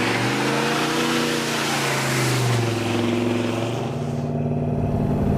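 Ranchero car engine droning steadily while driving on a road trip toward Alaska, a loud continuous low rumble with shifting pitch as it moves through the gears.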